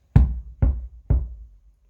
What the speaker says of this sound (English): Nothing remained to do but to knock.